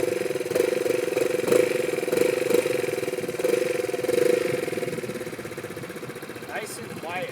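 Royal Alloy Grand Prix 300S scooter engine idling, a steady low mid-pitched hum with a faint pulsing rhythm, close by and moderately quiet throughout.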